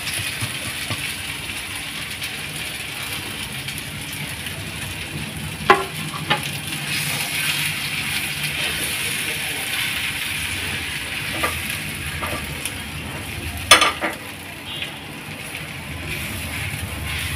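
Raw mango and spice powder sautéing in sesame oil for a mango chutney give off a continuous sizzle and crackle, with occasional scrapes and sharp spoon clinks against the pan.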